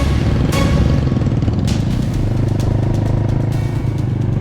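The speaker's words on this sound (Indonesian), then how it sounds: "akan melanjutkan perjalanan menggunakan motor untuk menuju ke Dusun Pantan Kriku" Motorcycle ridden along a village road in Indonesia, heading toward a hamlet over red-earth track; a loud, close, steady engine drone holds throughout with slight throttle swells and no talk.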